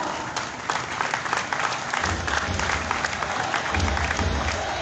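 A standing audience applauds to welcome a guest at a company's anniversary celebration, loud dense clapping with some cheering throughout and a low rumble of music or stage sound underneath.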